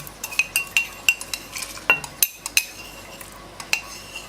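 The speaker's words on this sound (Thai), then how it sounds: "คน ให้เข้ากันนะคะ จน ไม่เหลือโซดาไฟอีกเลยนะคะ" A lye solution being stirred for making hot process soap, with a metal utensil tapping and scraping rhythmically against the container in quick, close clinks, with no voices.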